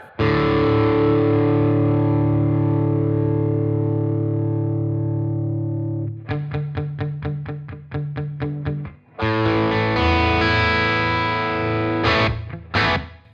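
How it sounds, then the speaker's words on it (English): Distorted electric guitar runs through an amp simulator with reverb. A long sustained chord rings out, then rapid chugged strums follow, and another chord swells and decays in the wash of reverb, with no talking. "Let's have some reverb."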